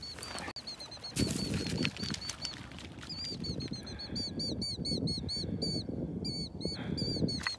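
A bird flaps its wings and takes flight outdoors while a dog gives chase, the wingbeats pattering under steady chirping calls and a constant background hum.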